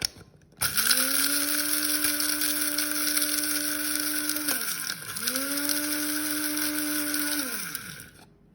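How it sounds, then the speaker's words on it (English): An electric spice grinder whirs loudly, whizzing spices into a fine powder in two long bursts, with a brief dip in pitch between them and the motor winding down at the end. "we want to grind it to a powder"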